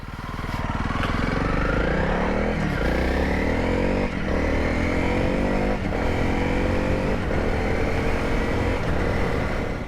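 A 2022 Honda CRF300L and a 2000 Yamaha Virago 535 ride along together, their engines giving a steady, loud, close drone with gentle rises in revs and some rattle, and no talking over it.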